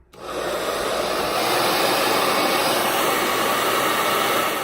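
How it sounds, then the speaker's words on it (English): A hair dryer switches on and blows a steady, loud, close rushing hiss at a hair-glued extended ponytail, holding constant after a quick rise. "And blow dry."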